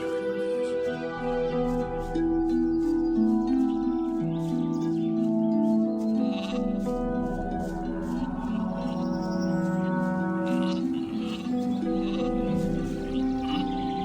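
Sheep bleat repeatedly in the video game Gothic 2 over a sustained musical backdrop, their calls rising and falling at moderate volume with occasional bird chirps.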